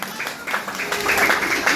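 A church congregation claps together in a short, dense burst of applause.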